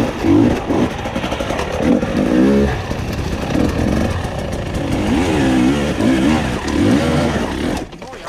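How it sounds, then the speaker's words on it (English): A two-stroke dirt bike engine revs on a rough trail, rising and falling in repeated throttle bursts that sound loud and close, with voices talking over it. "Gotta learn to get on that throttle more instead of bogging it down. It's not a four stroke, Toby."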